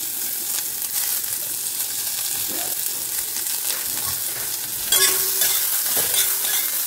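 Chopped onion fries in a little hot mustard oil with five-spice tempering, giving a steady close sizzle. Occasional soft stirring knocks sound over it, and the frying grows slightly louder toward the end.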